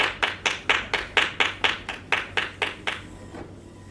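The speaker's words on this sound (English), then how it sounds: "let's clap it up for her." A small group of people claps in a steady, evenly spaced rhythm, about a dozen distinct claps that fade out over the last second.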